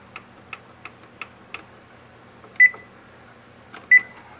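Oven timer being set for a birthday cheesecake: a run of five quick button ticks, then two short electronic beeps spaced about a second apart, close and clear in an otherwise quiet kitchen.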